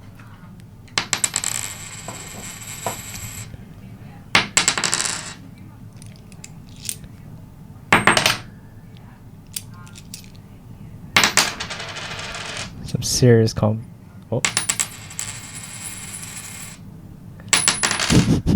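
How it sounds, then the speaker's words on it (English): Several coins drop one after another onto a table, each landing with a bright metallic clatter and ring, with brief voices now and then between drops. "You can stop dropping coins now."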